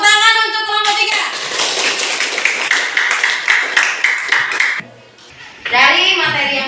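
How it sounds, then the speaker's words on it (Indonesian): Students in a school religion classroom clap for a presenting group, a short burst of hand claps and taps mixed with children's voices, then a pause before a voice speaks. "Tepuk tangan untuk kelompok 3"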